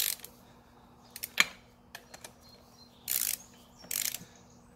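Ratchet tightening the top-end bolts on a Yamaha YZ125 two-stroke dirt bike during a rebuild: a few short clicking bursts, then two longer rapid ratcheting runs, close and fairly quiet in a still room.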